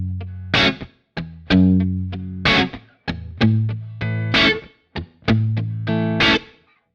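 Electric guitar playing a solo tone through a Kemper Profiler with natural room reverb, a series of distorted, crispy sustained notes and short phrases with clear attacks, played alone and fairly loud with brief gaps between phrases.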